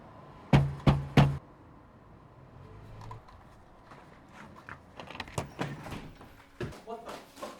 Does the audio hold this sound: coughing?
no